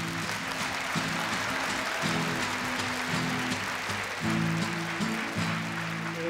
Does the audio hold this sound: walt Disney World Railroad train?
no